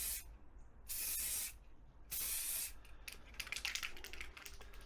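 Aerosol spray paint goes on as a first coat in two long, loud, steady hissing bursts close by, followed by quieter rattles and clicks.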